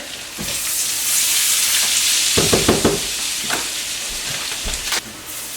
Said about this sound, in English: Just want to let our garlic cook down just a little bit.